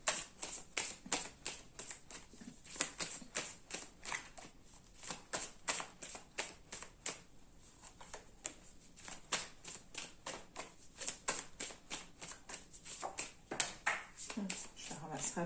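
Tarot cards being shuffled and drawn, a close, quiet run of crisp riffling and flicking card sounds in irregular bursts throughout, with someone speaking French over them.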